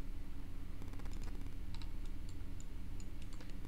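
Typing on a computer keyboard, a short burst of quiet, light key clicks over a steady low hum, no speech.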